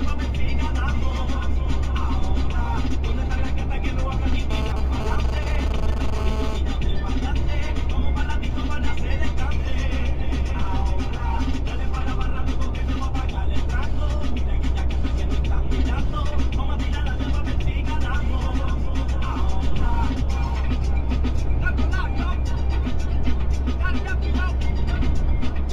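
Heavy trucks rumbling along a road beyond a line of trees, with steady wind noise; a continuous low vehicle drone persists throughout, and a voice speaks at times over it.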